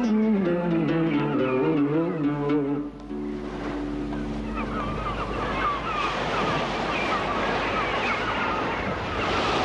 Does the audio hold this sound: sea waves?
yes